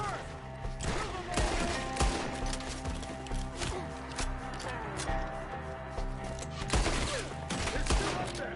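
Rapid gunfire in a chaotic Red Dead Redemption 2 shootout, dense cracks and bursts over a busy game soundtrack with voices shouting throughout.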